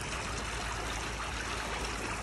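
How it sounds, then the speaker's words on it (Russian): Clear mountain stream water rushing along a town canal, a steady close broadband flowing rush with no pauses or voices throughout. "Да, это какой-то горный ручей."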